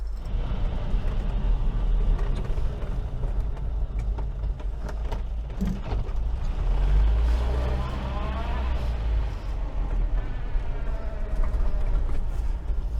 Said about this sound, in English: A noisy fifth gear because there's no oil in it.